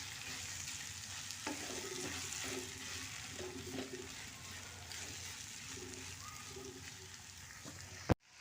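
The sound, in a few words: stirring potato vegetable frying in a pan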